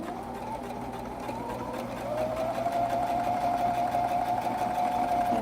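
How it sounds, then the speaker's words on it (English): Sewing machine running steadily through fabric while a tuck is stitched on a vest, a continuous near hum that grows slightly louder and more even partway through, with no talking. "She's going to sew between the two dots with the fold line at her right."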